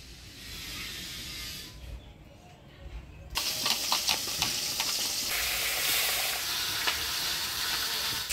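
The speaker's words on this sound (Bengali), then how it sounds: "মাছের মুড়াটা আমি ভালোভাবে ভেজে নিলাম, একেবারে লাল করে এবার তুলে নিলাম।" A rohu fish head fries in oil in a pan, a hissing sizzle that dips briefly and then swells louder, crackling and spattering with sharp pops, heard close with no talk.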